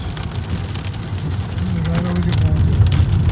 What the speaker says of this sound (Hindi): बारिश हो रहा